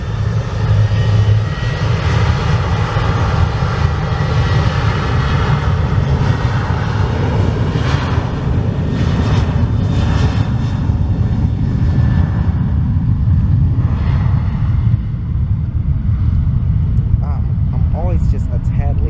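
A Southwest Boeing 737-8 passes close overhead at an airport, its loud, steady engine roar filling the whole stretch and swelling slightly as it goes by, with voices talking faintly underneath.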